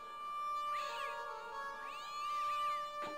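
A cat in the adventure game Broken Sword lets out two drawn-out, wavering meows over a steady musical drone, with a short sharp sound at the end.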